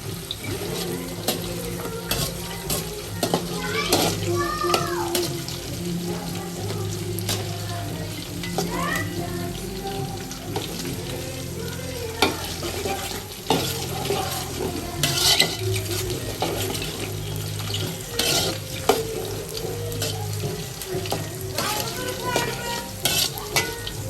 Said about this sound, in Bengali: দারচিনি, এলাচ, লবঙ্গ, শুকনা মরিচ, তারপর কাঠবাদাম, কাজু বাদাম এগুলা দিয়ে হালকা ভেজে নিচ্ছে।